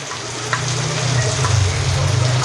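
Ground coriander, cumin and turmeric sizzling in hot oil in a pan for a hilsa curry, a steady close crackling fry with a low bubbling undertone and no speech.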